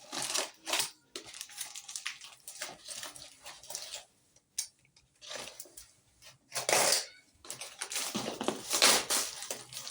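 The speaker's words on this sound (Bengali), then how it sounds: "আজকে প্রথমেই এই বড় বক্সটা আনপ্যাক করে দেখছি কেমন কি এসেছে।" A large parcel box being unpacked, with bursts of crinkling packaging, tearing and handling noises, separated by short quiet gaps.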